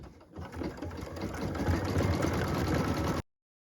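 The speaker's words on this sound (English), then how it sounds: "now we're stitching that cute little green bow on the blue package" A sewing machine stitches a green bow onto a blue fabric package piece for a Christmas tree skirt, running as a close, steady, rapid mechanical whir for about three seconds before stopping abruptly.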